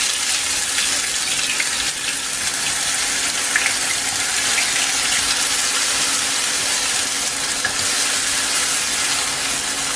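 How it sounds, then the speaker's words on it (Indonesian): Steady, loud sizzling and crackling of spice paste frying in hot oil in a wok, a dense hiss with no talking. "Kalau sudah panas, kita masukkan bumbunya."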